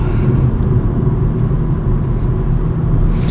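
A BMW M135i drives on a road in northern Scotland in third gear, braking lightly. There is a steady, loud low engine and road rumble from inside the car, continuous and close, with no voices.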